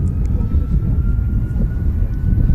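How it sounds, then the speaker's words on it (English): A Boeing 757 rolling at Manchester Airport: a loud, continuous low engine roar, close and steady throughout. "757 now rolling."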